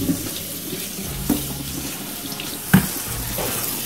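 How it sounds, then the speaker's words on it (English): Chopped lettuce in a strainer is rinsed under a kitchen tap. Water runs steadily and close, with a couple of brief knocks and splashes as the strainer moves. "So now I'm gonna rinse my lettuce."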